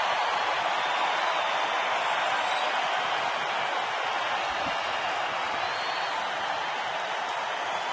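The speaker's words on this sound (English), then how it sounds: "Not a sellout crowd, but the ones here are making a lot of noise." Baseball crowd at a San Diego stadium, Reds visiting, roaring in a steady, broad wash of cheering and applause that holds for the whole stretch without pause.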